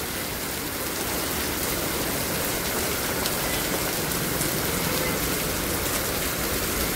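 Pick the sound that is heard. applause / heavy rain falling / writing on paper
heavy rain falling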